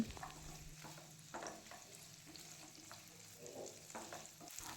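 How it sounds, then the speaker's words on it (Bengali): Cashews, curry leaves and chillies fry in oil with a close, crackling sizzle, broken by irregular scraping stirs of a spoon against the pan. "তেলের মধ্যে দিয়ে সব কিছুকে ভালো করে ভেজে নেব"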